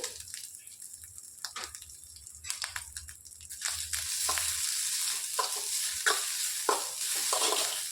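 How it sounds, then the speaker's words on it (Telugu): Sesame seeds and fresh coconut dry-roasting in a little ghee in a pan, with soft crackling sizzle and scraping stirs, brief spoon strokes at first, then a steadier, louder frying hiss; no talking. "ఇందులోనికి కొద్దిగా నువ్వులు వేసేసుకోవాలి ఇందులోనికి కొబ్బరి కూడా వేసేసుకొని వేయించుకోవాలి"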